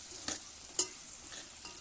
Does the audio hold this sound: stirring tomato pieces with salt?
yes